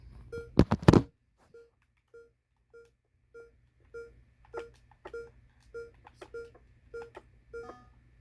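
Evenly spaced electronic security keypad beeps in Minecraft ring out one after another as a code is entered, steady and fairly quiet, after a brief thump at the start.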